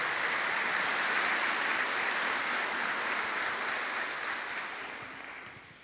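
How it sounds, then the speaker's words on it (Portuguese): A church congregation claps in sustained, dense applause that stays strong, then gradually fades over the last couple of seconds. "Dá uma salva de palmas para a palavra do Senhor."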